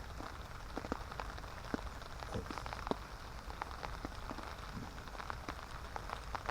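Heavy rain pelting down during a winter fishing session, a dense, constant patter of drops on surfaces with scattered sharper hits, steady and close, with no talk.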